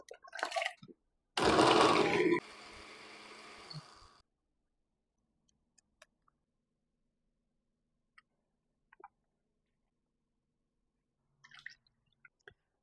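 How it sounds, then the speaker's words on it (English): Two cups of water poured into a blender for Jamaican seafood stew peas: a loud, close two-second pour that tapers into a brief trickle, then near silence with a few faint clicks. "Now to the blender, I'm going to add 2 cups of water."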